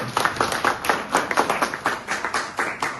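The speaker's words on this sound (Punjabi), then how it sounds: "ਇੱਕ ਵਾਰੀ ਫੇਰ ਉਹਦੇ ਨਾਲ ਹੀ ਤਾੜੀ ਮਾਰੋ" A crowd applauds at a Lohri and Maghi gathering at an ITI, a close, brisk patter of many hands clapping steadily for about three seconds with no talk.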